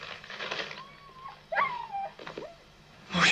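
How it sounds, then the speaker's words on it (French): A dog whimpers in a series of thin, rising and falling whines, close by, with short pauses between them and a brief rustle at the end. "Mon chien."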